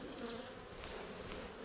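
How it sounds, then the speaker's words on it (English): Honey bees swarm around queen-rearing frames at an open hive set up for cell raising, making a continuous, soft, even buzzing hum with no talk. "These bees are not the friendliest girls ever, but they're good for this cell raising job"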